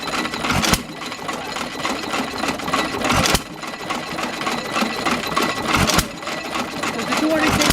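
A 1922 Hercules Model G hit-and-miss engine runs nearby with a steady mechanical chugging, a loud firing thump recurring every few seconds, while people talk over it.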